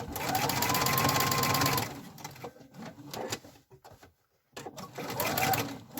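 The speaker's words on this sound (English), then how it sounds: "Okay, so we're just going to stitch our pockets on." A sewing machine runs in two fast, steady bursts as it stitches fabric pockets onto a fabric advent calendar, with soft handling clicks and a brief quiet pause between runs.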